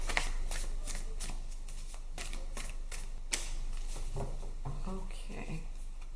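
Tarot cards shuffled by hand, a rapid run of crisp riffling flutters and soft slaps repeating through the stretch at close range, with faint background noise.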